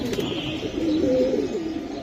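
Giribaj pigeons coo in low, soft, warbling throaty calls that run continuously through the short stretch, close by and fairly clear, with faint chirps and no talking.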